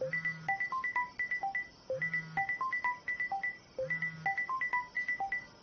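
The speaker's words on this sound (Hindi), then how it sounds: "किसका फोन है?" A mobile phone ringtone plays a repeating electronic melody of bright beeping notes over a low buzzing tone, cycling three times at moderate loudness with no voices.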